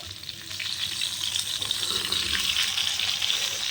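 Whole fish roasting on a tawa, giving a continuous, fairly loud hiss of sizzling oil close up with small crackles throughout.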